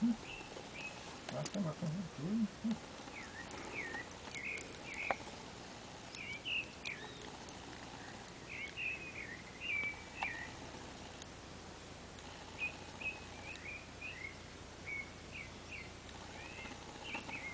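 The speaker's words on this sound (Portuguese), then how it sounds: "Só ouve-se o canto dos pássaros." Birdsong in the wooded Chapada Diamantina hills near Andaraí, Bahia, scattered bright calls and chirps coming at intervals, faint and at a distance over a quiet natural backdrop.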